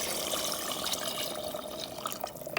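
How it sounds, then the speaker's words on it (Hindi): Hot water is poured into a pot of chicken chana curry, giving a faint, steady trickling and splashing stream close by with no talk over it. "अभी मैं इसमें डालने लगी हूँ गर्म पानी।"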